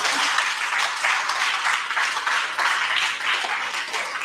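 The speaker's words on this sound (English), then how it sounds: "Ladies and gentlemen, please give yourself a round of applause." An audience at a landlord-investing seminar claps in a full, even round of applause, loud and continuous throughout with no voices over it.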